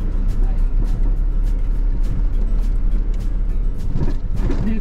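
Cars rolling along a narrow old street in Kumano-cho Nakamizo, heard from inside a moving truck cab, with a steady low rumble of road and engine noise and someone talking over it throughout.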